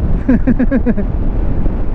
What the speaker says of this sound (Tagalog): Mahangin lang.